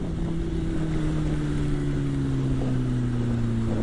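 Heavy, steady wind roar buffets the microphone on a moving motorcycle over a droning engine whose pitch slowly drops, constant and loud throughout.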